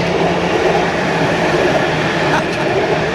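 A tram passes in Gera, Germany, with a loud, steady rolling rumble that fills the whole moment without a break.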